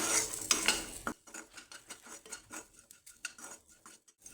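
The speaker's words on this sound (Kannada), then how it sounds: "ಊರಿನ ಲೋ ಟು ಮೀಡಿಯಮ್ ಫ್ಲೇಮಲ್ಲಿ ಇಟ್ಕೊಂಡ್ಬಿಟ್ಟು ಚೆನ್ನಾಗಿ ಹುರ್ಕೊಳ್ಳಿ" Spices roasting in a pan over a low-medium flame for a brinjal and peas gravy: a short burst of sizzle, then a run of light scraping and clinking stirs.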